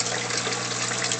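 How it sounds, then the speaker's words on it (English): A small Rio 8HF pump pushing water from a 125-gallon aquarium through a Turbo Twist 6X UV sterilizer gives a steady, close rush of flowing water over a low motor hum, constant and unbroken. "Got it pumping water with a Rio pump."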